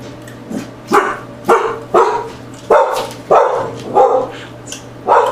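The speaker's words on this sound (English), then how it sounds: "That's the dog." A dog barks repeatedly, about eight sharp, fairly close barks in a loose rhythm over a low steady hum.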